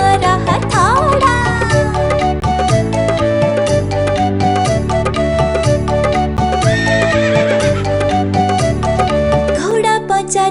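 A horse whinnies and hooves clip-clop through a busy, steady children's nursery-rhyme song with music, with rising neigh-like calls near the start and again later.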